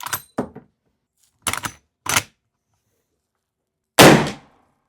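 Several sharp, short bangs from a subsonic .45-70 rifle loaded with 11 grains of Titegroup come in separate bursts, the loudest one near the end, with near-silence between them.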